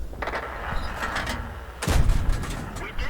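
A World of Tanks tank cannon fires once midway with a heavy, booming blast that decays slowly over a continuous low engine and battle rumble.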